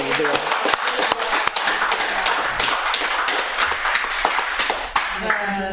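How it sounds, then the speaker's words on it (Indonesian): An audience at a film discussion applauds with many sharp, uneven claps at moderate distance, while a voice talks over part of it. "Tepuk tangan dulu."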